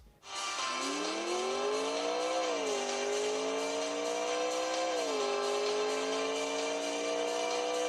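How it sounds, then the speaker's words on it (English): A car racing game plays on a Realme Q3s phone, its engine revving up loudly through two gear shifts, each climb dipping briefly before rising again, with no talking. "I did find the car game in this phone, and I really liked it, and I played it."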